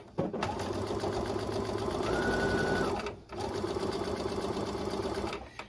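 A sewing machine stitches quilt pieces with its stock presser foot in a fast, steady mechanical whir, running for about three seconds, pausing briefly and then starting again.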